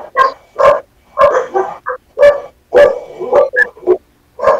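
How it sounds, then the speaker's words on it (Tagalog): A dog barks repeatedly and loudly nearby, sharp barks in an irregular burst with brief pauses between them. "Ang ingay ng aso."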